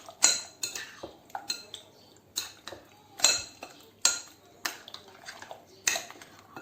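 A spoon mixing chicken marinade with spices and beaten egg in a bowl, giving repeated bright clinks and scrapes against the bowl in an uneven rhythm, close and fairly loud with no talking.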